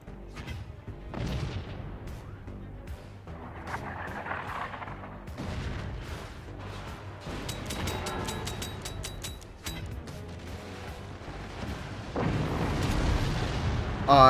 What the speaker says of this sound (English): We hit the mortar, we didn't get hit, and we destroyed the enemy's fort.